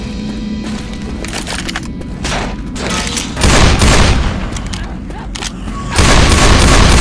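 Gunfire crackles and booms through a Left 4 Dead 2 round, with bursts of overlapping shots that swell loudest in two heavy stretches.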